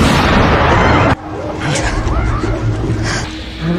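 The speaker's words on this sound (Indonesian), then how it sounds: "tiba-tiba terdengar suara tembakan" A loud gunshot boom in a film about apes ruling the earth, with a sharp cutoff after a dense blast, followed by quieter rumbling ambience and faint scattered sounds.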